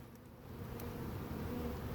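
A swarm of honey bees buzzes outdoors during a hive collection, a continuous low droning hum with many overlapping wings, fairly quiet and steady, slightly swelling partway through, with no voices.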